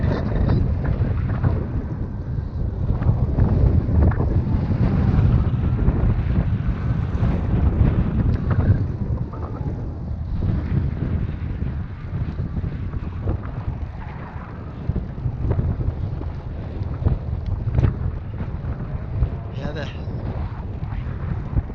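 Strong wind buffets a microphone outdoors at Pikeview Reservoir during a recumbent bike outing, with a loud, continuous low rumble that surges and eases over the whole stretch.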